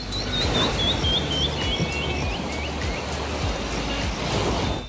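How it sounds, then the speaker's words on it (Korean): Birds chirp in repeated short bursts over a steady broadband wash of sea waves at Nobong Beach, a quiet Korean beach with few visitors, with no voices present. "오로지 파도 소리와 새소리 밖에 들리지 않았습니다"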